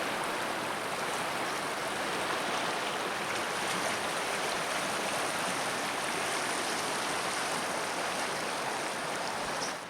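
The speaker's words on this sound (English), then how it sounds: "This is the Moyie River." Moyie River flowing through a valley, a steady, full rushing of water that stays even and close throughout with no voices.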